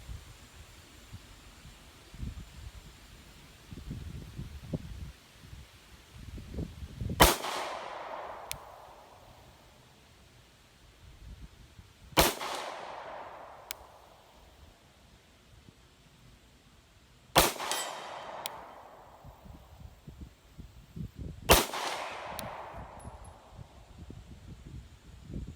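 A CZ P-07 pistol firing Winchester White Box ammunition at an outdoor range toward a 60-yard target: four sharp, loud shots spaced several seconds apart, each ringing out briefly over faint background rustle.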